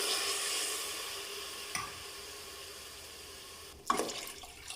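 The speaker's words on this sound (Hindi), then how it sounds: "अब हम इसमें 3 गिलास पानी ऐड करेंगे।" Three glasses of water poured into a pot of fried beef pieces while making chatkara boti, a steady watery rush and sizzle with a sharper splash near the end.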